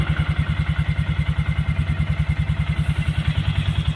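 Snowblower engine running steadily in snow with a fast, even low-pitched thumping beat, close and loud, throttle raised as it revs.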